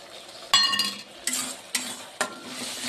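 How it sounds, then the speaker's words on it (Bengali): Spices stir-fried in hot oil in a pan while being worked with a spatula, giving a close sizzle broken by four sharp scraping stirs. "মশলাটা ভালো করে কষিয়ে নেব"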